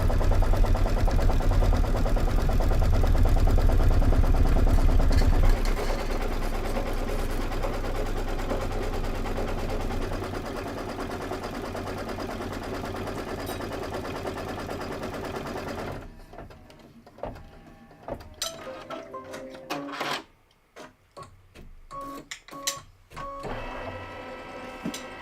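A computerized sewing machine runs a tack-down stitch and then a quilting stitch, humming steadily and loudly before breaking into shorter, stop-start bursts of stitching near the end.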